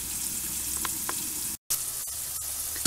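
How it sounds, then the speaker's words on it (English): Fish fillets fry in batches in hot grease in a pan, giving a steady, close sizzle with light crackles and a few soft pops. A brief dropout interrupts the sound near the middle. "I'm frying fish"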